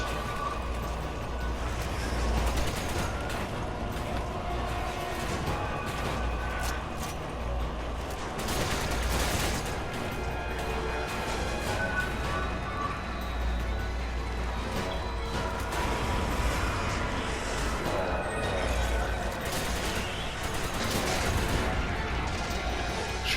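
Gunfire and explosive blasts from a Resident Evil 5 battle against lickers, including grenade launcher fire, keep up a dense, continuous roar of shots and booms for the whole stretch with no pauses.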